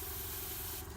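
An airbrush sprays paint onto paper in a home studio, giving a steady, close, airy hiss that runs for about a second and eases off at the end.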